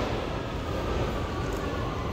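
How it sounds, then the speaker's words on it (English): Steady rumbling ambience on a London Underground platform, with a continuous low roar of rail and train noise and no voices. "This is what an underground platform looks like."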